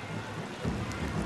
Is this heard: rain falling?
yes